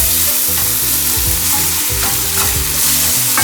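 Ginger garlic paste sautéing with onions in a pan for an egg tawa masala, a loud close sizzle with the scrape and clatter of a spatula stirring repeatedly, and no voices.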